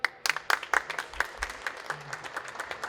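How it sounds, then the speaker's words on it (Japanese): Audience applause greeting guests walking on at a Daihatsu talk show, a burst of scattered hand claps rising then thinning over a few seconds, moderately distant in a hall. "拍手でお迎えいただいてありがとうございます。"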